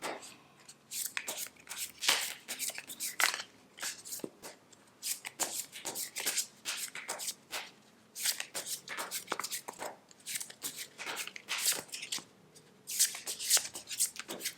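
Tarot cards are shuffled by hand in repeated quick riffling bursts, crisp papery flutters and taps recurring steadily at close range with no talk.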